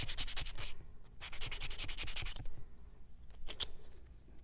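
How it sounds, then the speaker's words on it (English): Sandpaper rubs back and forth over a wooden desk surface with saw marks, making steady, close, raspy strokes in rhythmic bursts, a brief pause, then lighter scratching passes, with no voices. "So I'm going to sand this surface."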